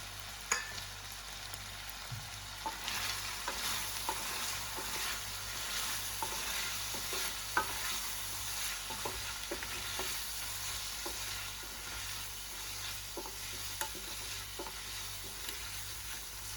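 Chicken frying in a pan with ground spices and red chili powder, a steady soft sizzle with occasional spatula scrapes and stirring taps, close and continuous without talk.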